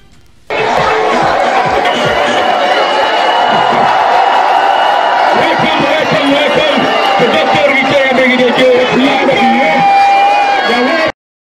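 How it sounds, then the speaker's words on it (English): Large crowd at a political visit in Kailahun, Sierra Leone: loud, dense roar of many voices with cheering, whoops and shouting, constant from start to finish. "You see the crowd for yourself."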